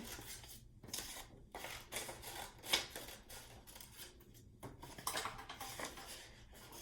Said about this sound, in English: So we're cutting those letters apart.